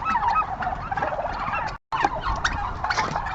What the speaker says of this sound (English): they are very friendly turkeys